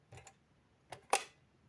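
A 1947 Kodak Brownie Six-20 Model D camera clicks softly as its shutter is pressed in bulb mode, giving a couple of faint ticks followed by a sharper mechanical snap, close and quiet.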